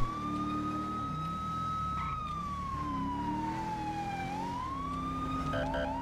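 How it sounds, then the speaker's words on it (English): A wailing police siren from a 2019 Dodge Charger cruiser in the LSPDFR police mod game, one steady rising and falling tone with engine rumble underneath, continuous and fairly faint. "here's the new siren that I put in"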